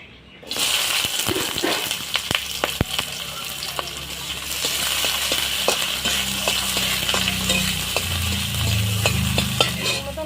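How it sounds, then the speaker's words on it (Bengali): Onion, chilli and leafy greens fry in hot oil in a wok. A steady, loud sizzle runs throughout, broken by sharp clinks and scrapes of stirring. "এখন আমি পেঁয়াজ লঙ্কা শাক ভাজার জন্য দিয়ে দেবো"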